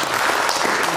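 An audience applauds steadily at a screening and debate on deportation from the Bas-Rhin, a dense, even burst of clapping.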